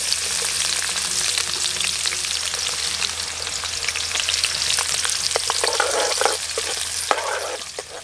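Onions frying in hot oil with fenugreek seeds and cumin, a continuous close, loud crackling sizzle with sharp spattering pops and occasional stirring scrapes throughout, no voices.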